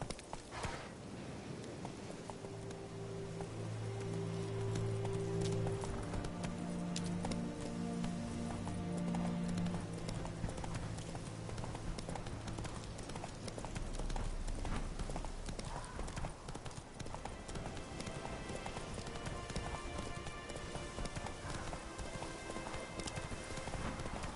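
Roach, the horse in The Witcher 3 video game, trots with steady rhythmic hoof clip-clops on the ground, continuous and close, over a soft game music bed.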